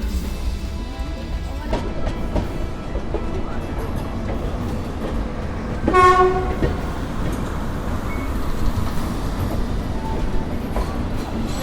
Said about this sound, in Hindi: अवध असम भाई साहब अभी आ रही है डिब्रूगढ़ से और जा रही है लालगढ़